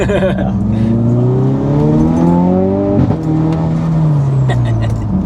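Turbocharged MK6 VW Golf R engine revs hard and loud through the range, a rising harmonic drone climbing steadily, dipping briefly at a shift before pulling up again, heard close from inside the car with no talking.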